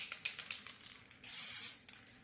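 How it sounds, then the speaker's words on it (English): Gray epoxy effect paint sprayed onto a surface: a short burst of hiss after a string of quiet clicks and taps, fairly faint and close, with no talking. "Notice how I was already spraying back here before I ever took off that direction."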